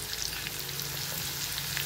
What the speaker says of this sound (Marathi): छानपैकी ही फोडणी आपल्याला परतून, लसूण चांगला खरपूस आपल्याला होईपर्यंत परतायचा आहे।